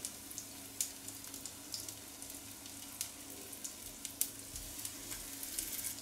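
Batter-coated zucchini slices fry in hot oil over medium heat, a bright continuous sizzle with fine crackling pops and a few sharper spits, close and alone with no one speaking.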